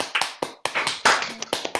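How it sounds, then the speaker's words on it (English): A few scattered hand claps from a small online audience welcoming a speaker to a public diplomacy talk, sparse and uneven, close and fairly loud with gaps between bursts. "Please join me in unmuting for a moment and welcoming with your applause, Richard Stengel"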